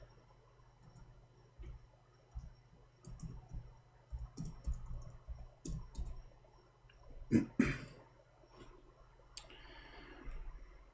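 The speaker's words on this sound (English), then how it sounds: "let us type this" Clicks and taps on a computer keyboard, irregular and fairly faint over a low steady hum, with one louder clatter partway through.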